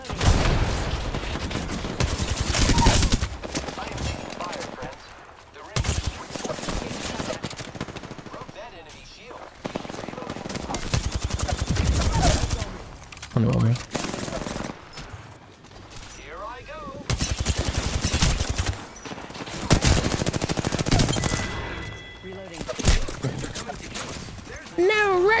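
Rapid bursts of automatic gunfire crackle in a firefight in Apex Legends, loud volleys coming in repeated clusters with short gaps, while a player talks over parts of the shooting.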